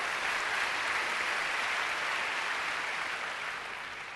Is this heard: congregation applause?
yes